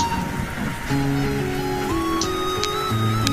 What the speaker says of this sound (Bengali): গাজীপুরে যে কি পরিমাণ বৃষ্টি হচ্ছে তো বুঝতেই পারতেছেন।